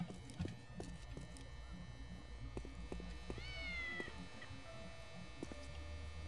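A cat meows in the Postal 2 video game: one rising-and-falling meow stands out over a steady humming background, with a few faint clicks and thumps around it.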